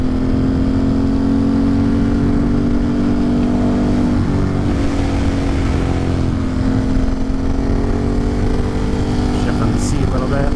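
Motorcycle engine pulling hard in fourth gear on a twisty forest road, a steady loud drone with rising pitch and wind rush, and a rider talking over it at times.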